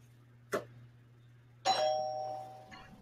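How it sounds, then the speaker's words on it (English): An electronic doorbell chimes in a quiet room: a brief tone, then a longer ringing two-note chime that fades out, over a low steady hum. "that's my doorbell."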